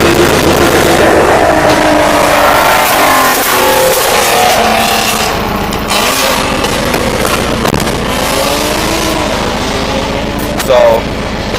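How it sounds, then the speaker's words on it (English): 1989 Dodge Dakota pickup with a swapped 5.9 V8 and very loud exhaust, idling with a heavy, loping rumble and revving in rising and falling surges, close and overwhelming throughout, with a voice faintly heard beneath it. "I'll give it a couple of revs for you guys so you guys can hear"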